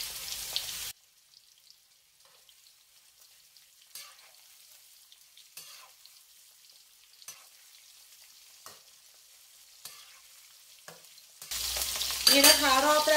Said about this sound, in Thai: นี่นะคะรอบแรกก็จะทอดราวๆสัก2 นาทีปิดแก๊สได้ค่ะ